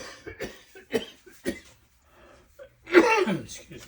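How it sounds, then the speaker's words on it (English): A person with a sinus infection lets out a harsh, rough cough burst near the end, close and loud, after softer scattered voice-like sounds. "I know you can hear me cough"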